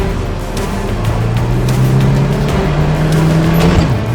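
A Paykan car with modified aerodynamics and its windows rolled up drives fast. Its engine gives a loud, steady drone that rises in pitch as it accelerates, with continuous road and wind noise throughout.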